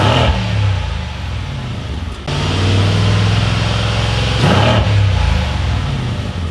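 A 2019 Mercedes-AMG C63-S is fired up, its engine catching with a loud burst and settling into a deep, rumbling idle, then a brief sharp rev near the end, heard up close and steady.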